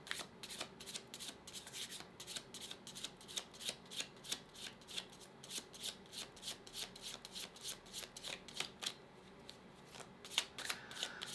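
Tarot cards are shuffled over and over in quick riffling bursts, a soft rhythmic flutter close by in an otherwise quiet room.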